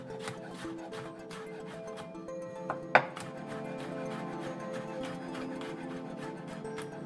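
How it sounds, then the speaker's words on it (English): Garlic cloves smashed and then chopped on a cutting board, one sharp smash followed by a steady run of quick knife taps, close and fairly quiet. "we're just going to smash those a little bit, and then follow up by chopping them up"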